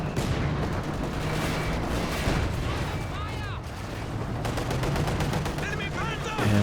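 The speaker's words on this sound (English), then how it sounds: "Ooh, big shot from the T-34." A T-34 tank fires its cannon in a Company of Heroes 2 battle, one big shot within a dense, continuous wall of gunfire, machine-gun bursts and booms, with a voice talking over the din.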